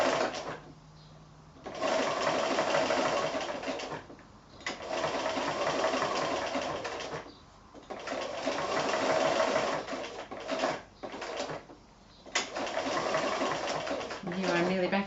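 Machine blanket stitch being sewn on fused applique for quilting, with a sewing machine whirring in steady bursts, stopping briefly every couple of seconds to pivot, close and loud, with occasional talk between runs.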